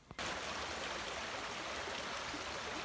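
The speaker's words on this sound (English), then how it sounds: "this is the river that I think comes after the waterfall" A river flows just below a waterfall on the Appalachian Trail, making a steady, loud, close rush of water that starts abruptly and continues without a break.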